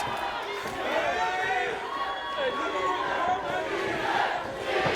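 Crowd at a Juggalo Championship Wrestling show cheering and roaring for a tag team, a dense, continuous swell of shouting voices with a commentator talking over it.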